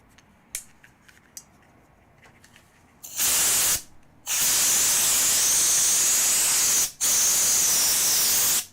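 Compressed air cleans pet hair out of a computer: after a few faint clicks, loud, harsh hissing blasts of spray start, one short burst and then two long sustained bursts with a brief break between them.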